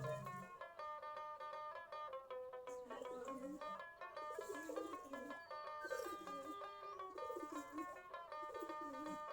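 A loft of around forty pairs of pigeons coos and murmurs while they eat rice at midday, overlapping throaty calls rising and falling continuously at moderate distance with no talking.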